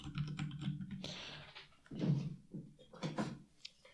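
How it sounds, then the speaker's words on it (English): Typing on a computer keyboard while coding in C: a run of close clicky keystrokes in irregular bursts, with a few heavier thumps mixed in and no talk. "I need to put my keyboard on a mat because otherwise the sounds are probably very loud for you"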